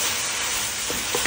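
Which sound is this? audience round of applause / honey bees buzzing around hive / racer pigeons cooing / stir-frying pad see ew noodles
stir-frying pad see ew noodles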